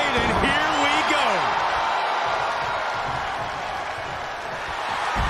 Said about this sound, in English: The sound of this crowd is deafening, and he's asking for more.